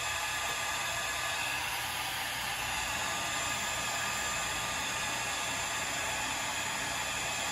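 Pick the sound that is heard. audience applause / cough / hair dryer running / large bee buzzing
hair dryer running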